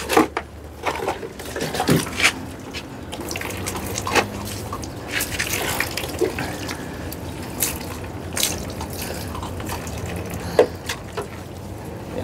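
Water running and splashing while puppies are bathed, a fairly loud wet wash with scattered knocks, drips and clatters throughout and no talking.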